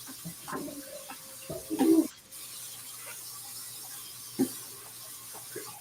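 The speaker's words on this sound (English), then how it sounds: "I'm running water too." Water running from a kitchen tap while a bowl is washed, a faint steady hiss with a few brief clunks and splashes, fairly quiet in the background.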